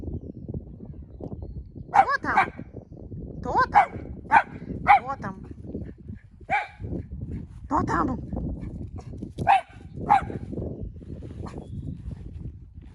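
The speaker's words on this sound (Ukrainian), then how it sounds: "Зла собака, зла собака." A poodle barks repeatedly at the door in a home, sharp yips and bow-wows scattered over steady nearby talk from a woman.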